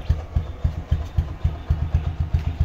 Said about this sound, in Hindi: मैं इस टाइम बाइक में जा रहा हूँ